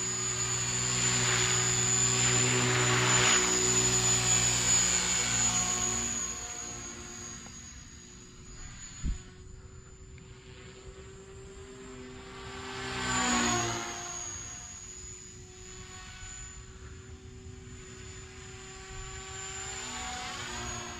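An Align T-Rex 300X RC helicopter flies at low rotor speed on its first flight, giving a steady high motor whine and rotor buzz that swells and fades as it moves, with one sharp knock midway.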